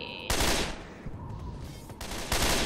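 Gunfire from the video game Left 4 Dead 2: loud, dense bursts of automatic shooting, one near the start and another near the end, with quieter rattling between them.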